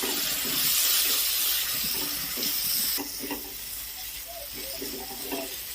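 Ground chilli and Kashmiri chilli powder being sautéed in a pan for prawn malai curry, a loud, steady broadband hiss of oil and frying throughout, with a few soft scrapes near the middle and end.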